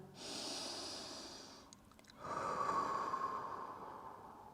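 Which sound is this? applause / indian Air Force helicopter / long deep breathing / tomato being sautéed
long deep breathing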